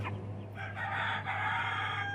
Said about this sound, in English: That is a Deathlayer rooster, little cockerel.